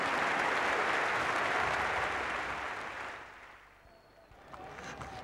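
A cricket crowd at a Sydney test match applauds a batsman reaching fifty, a loud, steady wash of clapping and cheering that fades over several seconds before picking up again more faintly.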